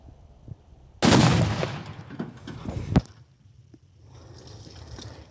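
A rifle shot sets off tannerite on the gas tank under the bed of a Dakota pickup: one sudden loud blast with a rushing, crackling tail that fades over two seconds, then a second thud and scattered debris sounds.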